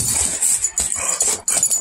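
A pet dog makes close, loud whimpering and scrabbling sounds in short bursts inside a messy house, with brief gaps between them and no speech.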